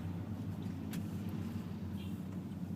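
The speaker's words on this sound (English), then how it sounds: "we're going to pass another bus" Low steady rumble of a car moving through downtown Macaé traffic while passing a bus, a continuous road drone with engine hum and a brief faint higher noise partway through.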